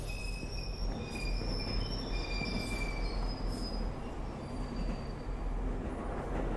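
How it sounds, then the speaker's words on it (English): A train in a video game rumbles past with high metallic wheel squeals ringing over a steady low roar, continuous and fairly close, with no voices. "There it is. There's the train."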